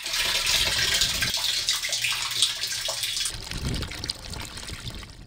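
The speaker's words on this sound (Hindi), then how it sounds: "तलबा आलूदा पानी इस प्लांट में डालते हैं" Polluted water, sewage or wastewater, pours steadily into a water treatment plant with a continuous splashing rush that eases near the end, and no talking.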